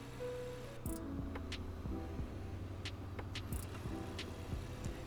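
A hybrid car accelerating in combined mode in the Greenville Wisconsin game, a steady synthetic engine drone with repeated rising and falling tones and occasional sharp clicks, moderately loud and continuous without talk.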